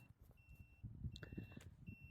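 A wireless pet fence collar outside its zone emits faint, thin electronic beeps in short repeating tones, heard up close over low rustling and handling noise.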